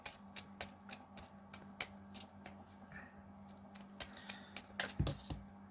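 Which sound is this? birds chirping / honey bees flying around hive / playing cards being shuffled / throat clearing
playing cards being shuffled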